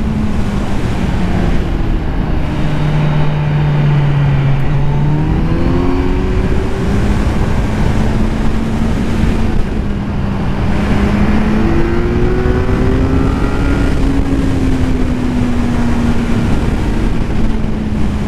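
A Kawasaki Z900 motorcycle fitted with a LeoVince slip-on exhaust, engine droning loud and close with rising and falling revs, the pitch climbing through several pulls under heavy wind noise.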